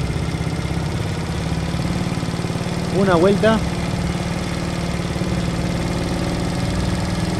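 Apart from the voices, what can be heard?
small motorcycle engine idling and revving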